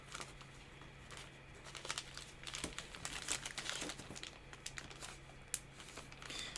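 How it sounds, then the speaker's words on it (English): Cards from a solo tabletop card-and-dice game being packed into their box: soft crinkling and rustling with occasional light taps and knocks, close and quiet. "And we'll put the cards in here."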